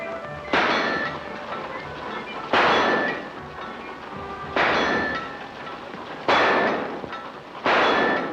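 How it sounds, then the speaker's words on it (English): Five sharp, ringing shots from a small gun at a shooting gallery in a 1944 Western, spaced about two seconds apart, each a loud close crack with a metallic clang and a short decaying tail, and no talk. "Straight shooting little gun."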